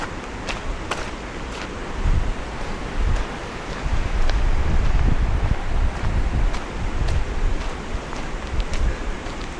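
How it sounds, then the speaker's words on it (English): A clear river runs beside a hiking trail, and its continuous broadband rush of flowing water swells and eases. Gusts of wind buffet the microphone now and then. "There's a river right there. Coming all the way from up there."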